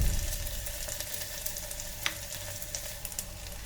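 Ginger garlic paste frying in an electric kettle, a steady close sizzle with occasional small pops and crackles running the whole time.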